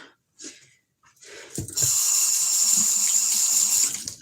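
Tap water gushes steadily into a sink for a couple of seconds, preceded by a few faint rustles, breaths and handling sounds, close and fairly quiet.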